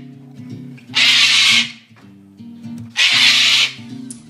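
A voice imitates Australian birds with two harsh, raspy screeching bursts, each about half a second long, at close range. Talk-like voiced sounds run underneath and between the bursts.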